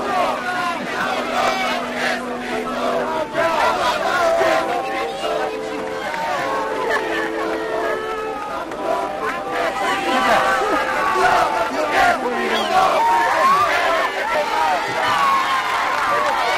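A crowd surges and clamors around the Pope's Mercedes popemobile, continuous loud babble and shouting with a horn-like tone held in the first seconds and scattered calls rising over the din.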